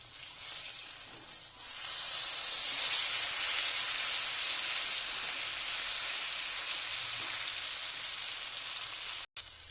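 Katla fish sizzling in a pan of oil just after being flipped makes a loud, continuous hiss and crackle close by, with no voices, cut briefly near the end.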